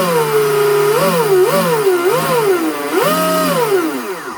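A Sonicwake 36 V2 RC boat motor at low throttle whines steadily and close, its pitch rising and falling in short repeated blips as the throttle is nudged up and down.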